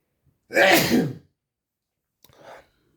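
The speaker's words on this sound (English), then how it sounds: "I need to sneeze." A single loud, close sneeze bursts out, followed after a short pause by a softer, brief vocal sound.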